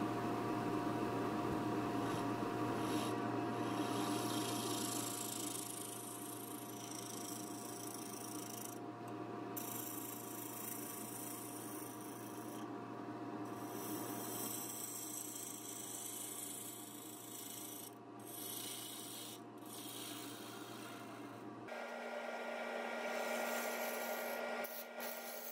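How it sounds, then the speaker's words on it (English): Bowl gouge cutting a walnut bowl on a spinning lathe, a steady rough scraping and rubbing over the machine's constant hum, fairly faint, with brief pauses in the cut and no voices. "So here I'm using a bowl gouge to make what will be the bottom of the bowl"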